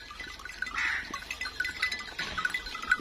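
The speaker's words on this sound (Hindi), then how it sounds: "ये इनकी सारी भेड़ों में से अच्छी भेड़ है जी" Sheep on a farm in Pakistan bleat several times at moderate distance over a steady background of livestock and outdoor noise.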